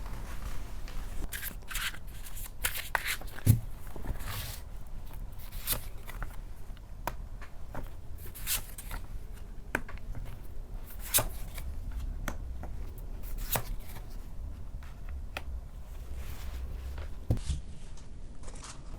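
A deck of tarot cards is shuffled by hand, giving continuous close riffling, sliding and soft slapping with occasional sharper snaps, alone without speech.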